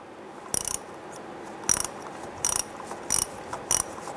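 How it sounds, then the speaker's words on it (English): A 1/4-inch drive ratchet with a 7mm deep socket and small extension loosening a screw on a 2005-2010 Chrysler 300 conductor plate, heard as five short, close bursts of rapid ratchet clicking separated by brief pauses. "We're going to use our 7mm deep socket in small extension on our 1/4" drive ratchet"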